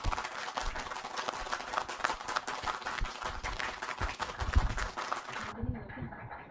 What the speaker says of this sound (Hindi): तो जोरदार तालियों से स्वागत कीजिए उषा दास मैडम का।